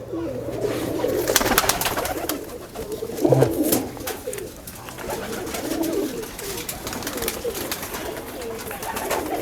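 Pigeons coo softly in low, rolling bursts at a pigeon farm, repeating steadily against a busy background of rustling and faint chatter.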